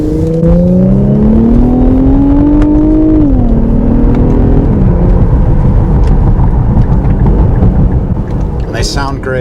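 A 2021 slate gray Infiniti Q50 Red Sport 400 with 400 horsepower, heard from inside as the engine revs up in a rising drone, dips briefly, then keeps pulling loud and steady under road rumble.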